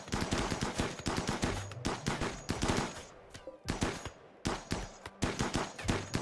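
Rimworld gunfire: rapid bursts of loud automatic shots crackling back and forth, with brief pauses between volleys and no talking.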